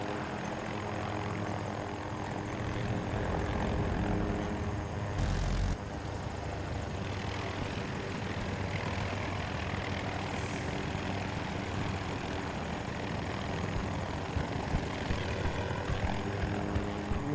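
Helicopter rotor and engine drone steadily throughout, loud and continuous, in the Battlefield 2042 video game, with no talking over it.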